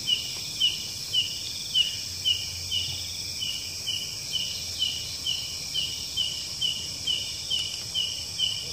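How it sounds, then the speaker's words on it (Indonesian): Steady high insect-like trilling with regular repeating chirps, a continuous buzzing drone throughout; could be birds or crickets calling in the distance. "Ada suara burung."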